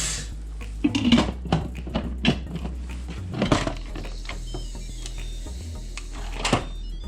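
A lid set onto a pot of venison roast with browned, seasoned meat in beef stock, heard as a few close metallic clanks and knocks with some handling rattle, no speech.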